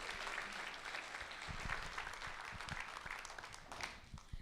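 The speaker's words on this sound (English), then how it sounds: "Big round of applause to them." An audience at a festival performance applauds, a faint, dense wash of clapping with scattered individual claps standing out, continuing evenly throughout without any voices.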